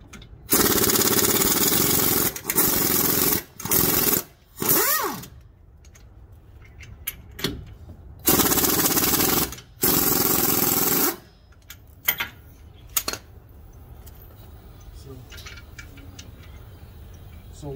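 Loud bursts from a power impact tool loosening the 21mm knuckle bolts on a 2007 Buick Rendezvous, several hard rattling runs of a few seconds each, separated by short pauses and clanks in a garage.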